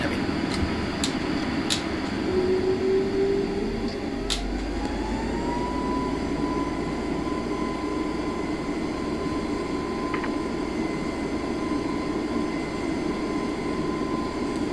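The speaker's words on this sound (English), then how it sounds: "Quite heavy today, so it's gonna take an extra minute to take off." Heavy A321LR airliner taking off in Microsoft Flight Simulator 2020, a steady loud engine roar with a rising whine that climbs and holds as thrust builds, with occasional clicks and little talk.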